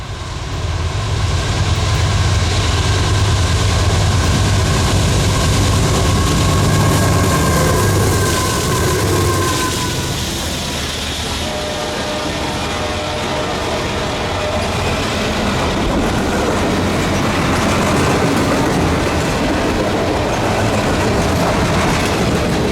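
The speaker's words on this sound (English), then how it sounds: "I saw a heads up for a westbound loaded military train bound for Fort Johnson en route" A loaded westbound military freight train passes on the CPKC in winter, loud and close, with a continuous heavy rumble, rhythmic clatter of wheels over rail joints and faint metallic squeal throughout.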